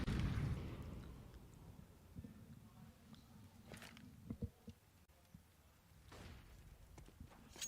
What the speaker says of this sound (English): Ooh, meaty grenade